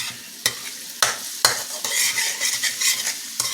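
Garlic frying in a pan, a close sizzle broken by several sharp stirring scrapes and clinks of a utensil against the pan, with no voices.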